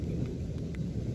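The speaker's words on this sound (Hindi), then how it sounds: "बादलों की गड़गड़ाहट आपको सुनाई दे रही होगी एकदम" Low, steady rumble of thunder with wind and rain during a dark rainstorm over green trees, a continuous deep roll filling the short stretch without pauses.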